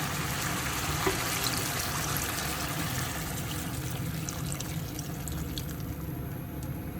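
Water poured into a pan while pork adobo cooks, a steady rushing trickle and splash that holds evenly for several seconds, close by and alone without talk.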